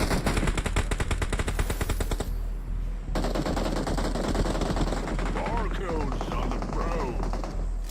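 Rapid automatic gunfire from a weapon in the mobile battle royale game BGMI, loud sustained bursts of fast repeated shots in the first few seconds, then a pause and further game action with more scattered firing and effects.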